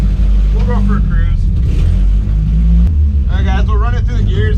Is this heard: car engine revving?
yes